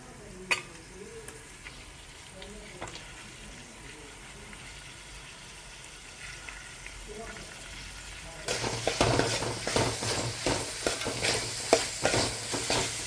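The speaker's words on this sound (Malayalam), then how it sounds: "ഉള്ളിയൊക്കെ നല്ല പോലെ ബ്രൗൺ കളറായി വന്നിട്ടുണ്ട്" Onions and tomatoes for a Kerala-style chicken curry fry in a pan: a soft low sizzle at first, then a sudden louder burst of hissing and crackling with repeated scraping stirs close by.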